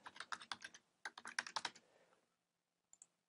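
Rapid bursts of keystrokes on a computer keyboard while entering names into an Excel for Mac 2011 chart dialog, close and crisp, then a pause and two final taps.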